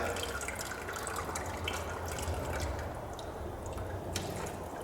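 Water mixed with a little oil drains out of a Ford 5610 tractor in a steady, close splashing trickle with faint drips, continuous and fairly quiet, and nobody speaks.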